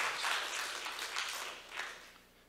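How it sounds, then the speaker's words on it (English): A church congregation claps together during a morning worship service, a steady broadband wash of hand claps that swells and fades in a few waves, fairly soft overall with no talking. "Give the Lord a clap offering of praise."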